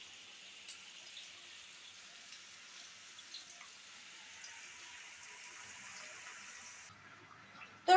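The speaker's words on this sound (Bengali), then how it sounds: "কড়াই বসিয়ে দিয়েছি, এর মধ্যে আমি মাছ ভেজে নেব" Hilsa fish frying in a wok: a steady, moderately loud hiss of sizzling oil that runs unbroken for about seven seconds, then drops away, followed by a sharp knock at the very end.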